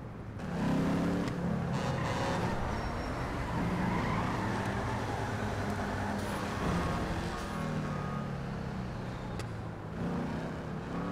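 A Vapid Hotknife hot rod drives in the video game GTA V, its engine a continuous droning rumble with road noise, holding fairly steady and close for the whole stretch, no voices over it.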